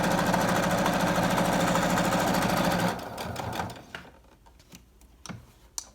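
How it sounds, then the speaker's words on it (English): A sewing machine stitches a fabric face mask, running loud and steady for about three seconds before stopping, followed by scattered clicks and handling noises. "Okay, and so you're just gonna start sewing."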